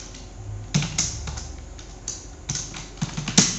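Keys clacking on a computer keyboard while Java code is typed, with irregular bursts of clicks and brief pauses, close and moderately loud, no talking.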